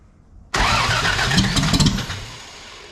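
A carbureted Toyota FJ45 Land Cruiser engine, primed with starting fluid, is silent, then suddenly catches and roars to life. It runs loud and rough close by, with uneven revs that settle and fade slightly toward the end.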